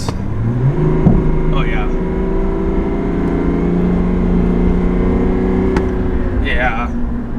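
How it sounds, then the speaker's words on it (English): A lifted Chevy Silverado 1500 Duramax diesel pulls hard while towing a trailer, its engine droning steadily from inside the cab with tones that rise through a gear, and someone speaks briefly. "One last acceleration test to see how well it does."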